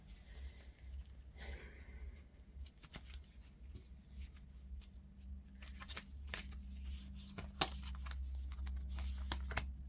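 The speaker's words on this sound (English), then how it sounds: "These are not cards that I can overhand shuffle" Tarot cards are shuffled by hand without an overhand shuffle, making soft close-up riffles, slides and taps in scattered bursts over a low background hum, quiet throughout.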